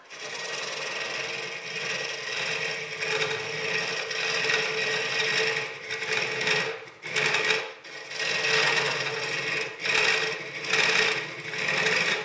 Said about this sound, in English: You can get an idea that this is a pretty substantial tool, and really helps when I'm hollowing here.